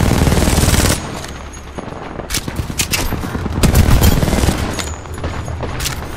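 Gunfire in a shooter video game, a loud rapid burst at first, then scattered sharp shots and quick automatic volleys crackling close by.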